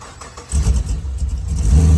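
A cold VE Holden Commodore SSV (Pontiac G8 GT) V8 started by remote, a quiet moment then the engine catching and rumbling into a loud, steady idle close by.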